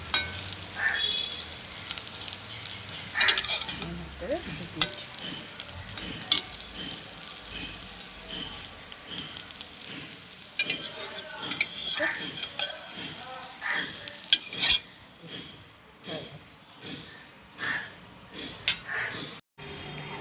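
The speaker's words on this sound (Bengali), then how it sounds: "অমলেটের মতো ভেজে নেব সবগুলোকে।" Small folded egg omelettes fry in a pan with a sizzle that comes and goes, joined by frequent clinks and scrapes of a utensil on the pan; the frying fades and the clatter grows toward the end.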